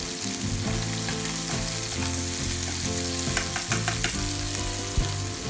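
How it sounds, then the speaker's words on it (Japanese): Napolitan pasta frying in a pan, stirred with tongs: a steady, close sizzle runs throughout, with scattered clicks and scrapes from the tongs, and no voices. "フライパンちゃちゃっとこう触れなくても、 普通にトングで混ぜていただいて"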